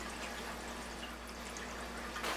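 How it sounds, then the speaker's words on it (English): Water runs steadily through a Kangen water ionizer machine during E-cleaner cleaning, a continuous close pouring flow with a low electrical hum beneath it. "you want to run this water for about 10 seconds"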